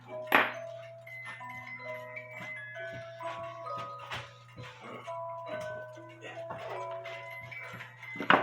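A cuckoo clock with a gong and 320 gram weights plays its tinkling music box melody, a steady run of bright chiming notes over a low constant hum, with a few louder clicks.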